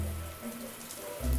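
Shower water running in the video game Manual Samuel, a steady hiss of spray over a low rumble that swells louder near the end.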